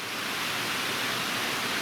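A waterfall roars beside a wilderness campsite in the Cranberry Wilderness, a loud, steady, unbroken rush of falling water.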